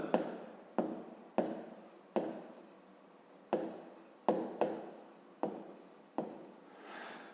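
Pen strokes writing out a math solution on paper, close and clear, with about a dozen scratchy bursts arriving in uneven rhythm and short pauses between them.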